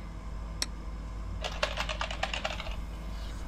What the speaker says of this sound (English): I am typing so fast!